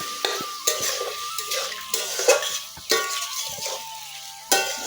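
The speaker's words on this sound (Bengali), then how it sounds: "আলু আর ফুলকপি দিয়ে একটু কষিয়ে নিব।" Potatoes and cauliflower sautéing in spice paste with a little hot water for a vegetarian cauliflower kalia, with a low sizzle under repeated close spatula scrapes and clinks against the pan at an uneven pace.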